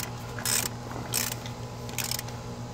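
A ratchet snugs lug nuts on a 2012 Nissan Altima wheel: three short bursts of rapid clicking, close and separated by brief pauses, over a low background hum.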